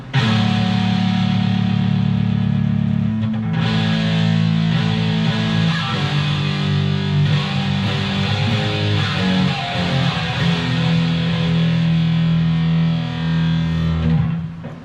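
Heavy, grungy distorted electric guitar through a Soldano amp model on a Headrush Prime, set up as a 90s metal rig: loud, dense chugging riffs and sustained chords play continuously without any talk.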